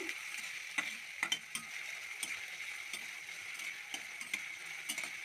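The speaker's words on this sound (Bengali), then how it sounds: "ভালো করে ভেজে নিচ্ছি।" Chopped onion with a little garlic fries in hot oil, giving a steady hiss with scattered crackles and occasional spoon taps, close and even throughout.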